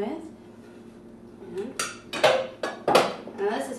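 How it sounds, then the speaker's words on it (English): A cake is shaken loose from a greased pie pan onto a plate, giving a few light clattering knocks of metal pan against dish, close and moderately loud, in a quiet kitchen. "take it out of the greased pie pan, so it's going to slip out nice and easy onto this plate."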